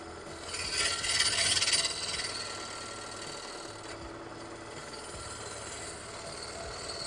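A woodturning chisel cuts maple on a lathe with a steady, raspy shaving hiss that swells for a moment and then settles into an even whir of the spinning workpiece, with no speech.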